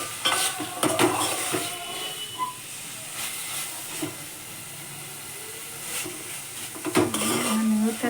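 Milk with nutmeg and sugar simmering in a pot for kheer while a bhaji cooks alongside, giving a steady hiss with stirring scrapes and clinking utensils throughout.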